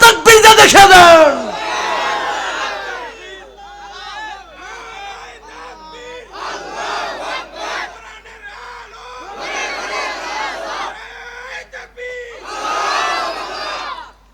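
Rally crowd in Panchagarh shouting takbir, repeated loud collective chants in several bursts separated by pauses, with a sharp loud outburst at the start.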